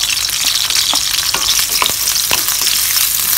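Onions frying in a pan with star anise and cinnamon give a loud, steady close sizzle with a few light stirring clicks and no voices.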